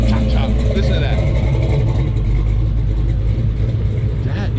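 A 1979 Chevrolet Camaro at a car show, its engine idling with a loud, lumpy, choppy rumble close by, steady and low throughout while people talk over it.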